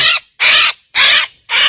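A small bird chick, stranded in floodwater and just rescued by boat, gives four loud, sharp chirping calls in quick succession, close up with brief gaps between them.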